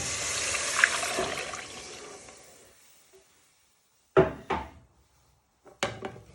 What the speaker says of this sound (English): Now you want to add in your stock.